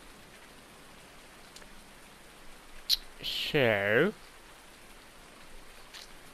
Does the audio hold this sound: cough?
no